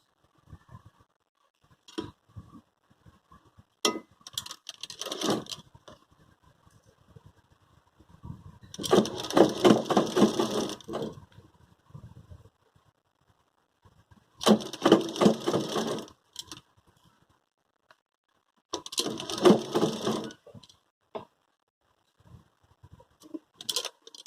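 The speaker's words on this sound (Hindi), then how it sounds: "इसको मैं किनारे से, बिल्कुल किनारे से सिलाई लगा रही हूँ" A sewing machine stitching the edge of a small cotton dress for a Laddu Gopal idol, running in four separate bursts of rapid whirring stitches with quiet pauses between, close and moderately loud.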